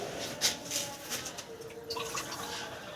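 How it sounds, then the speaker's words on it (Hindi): Water poured from a cup into a cooking pot on a home stove, a steady splashing trickle with a few brighter splashes, fairly faint and heard alone. "और 3 कप ही इसमें डालूंगा पानी के।"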